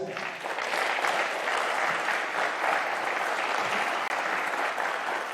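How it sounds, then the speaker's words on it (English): Steady applause from an audience at a squash league event night in an Amsterdam stadium, a dense, sustained patter of many hands clapping at moderate distance. "And a big round of applause for both of these two for finishing off what is a fantastic night."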